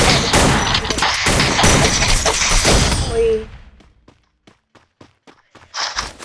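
A pump-action M590 shotgun fires inside the Free Fire battle game amid a dense burst of gunfire for about three seconds, then sharp isolated reports and thuds follow at lower level, with a louder crack near the end.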